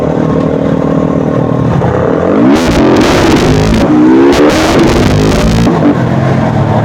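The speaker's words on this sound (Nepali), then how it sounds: "दाइ पावरले उड्ने रहेछ यार पावरले उड्ने रहेछ बाइक" A motorcycle revs hard and accelerates with strong power, its loud, close engine note climbing in pitch with a rough, clattering edge over the whole stretch.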